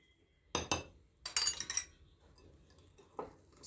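Utensil stirring flour in a bowl to make pâté dough, giving a quick pair of scraping clinks, then a denser burst of scraping rattles, then a single clink at the end, close and fairly quiet.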